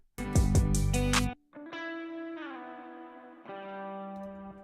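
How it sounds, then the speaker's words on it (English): A reversed musical phrase soaked in effects for a country-style beat, with loud swelling tones in the first second, then a softer stretch of sustained, gliding pitched notes that shift in steps, with no voices. "It sounds way better reversed."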